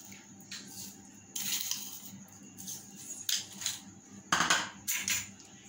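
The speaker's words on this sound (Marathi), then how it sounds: "आणि ही साखर मी पूर्ण अशी विरघळून घेते दुधामध्ये" A metal spoon clinks and scrapes against a bowl while stirring sugar into milk for banana shikran. The close, uneven strokes come in several bursts that grow louder toward the end.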